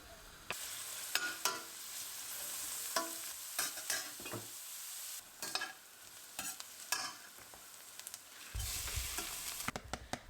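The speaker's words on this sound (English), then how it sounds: "I'm going to saute 1 onion that I diced medium size in mix of vegetable and olive oil." Medium-diced onion sauteing in a mix of vegetable and olive oil, a soft steady sizzle broken by repeated scraping stirs of a utensil across the pan, close and quiet.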